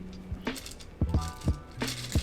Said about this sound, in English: Pour this over a big ice cube.